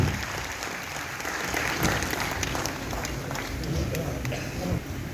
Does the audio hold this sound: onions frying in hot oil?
no